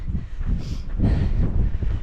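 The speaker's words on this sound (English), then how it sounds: "if it's going to get windy, like it just started doing" Gusty wind on a mountain trail while hiking, a low rumbling buffet against the microphone that rises and falls in two close surges.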